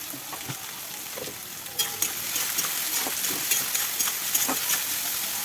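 Carrots and beans fry in a pan, making a soft, continuous sizzle with scattered spoon scrapes and taps that grow a little louder partway through, close by with no voices.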